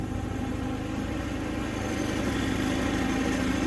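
A Predator 3500 generator fitted with a Nashfuel tri-fuel conversion runs on propane, giving a steady, even engine drone that holds at constant loudness throughout with no voices.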